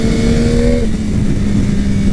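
A 2021 Yamaha MT-09 SP motorcycle pulls hard, its engine note climbing and then dropping as it shifts up through a gear, loud and steady with wind roar, and no talk.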